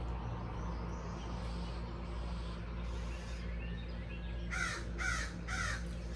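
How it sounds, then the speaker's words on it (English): Several crows caw outdoors, three loud harsh calls near the end over a steady low background rumble, with fainter calls earlier. "there's a lot of birds"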